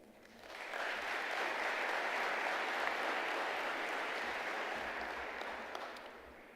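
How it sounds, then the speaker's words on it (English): Audience at an international ministerial summit applauding a science minister as he is welcomed, clapping swelling in quickly, holding as a dense even patter, then gradually fading, moderately faint. "May we welcome him with a round of applause."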